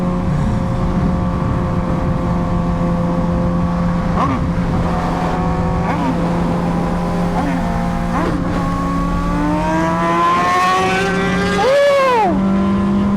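A loud Suzuki GSX-R1000 sport motorcycle with an SC Project aftermarket exhaust drones steadily, revving up in several sharp bursts with a rising, aggressive exhaust roar near the end.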